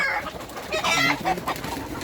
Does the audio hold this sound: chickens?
yes